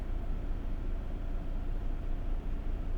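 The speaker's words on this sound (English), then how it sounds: "This is what it sounds like with the AC on level 3, with the engine running and the auto stop is off." A parked 2023 Ford Bronco OBX idles with auto stop off and the air conditioning fan on level 3, giving a steady, close, low engine rumble with a constant airy hiss that never changes.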